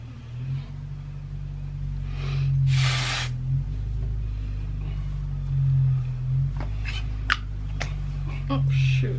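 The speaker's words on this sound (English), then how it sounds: "let me put some dry shampoo in it" Short bursts of dry shampoo sprayed into hair, a close airy hiss of a few seconds, over a steady low rumble with someone talking.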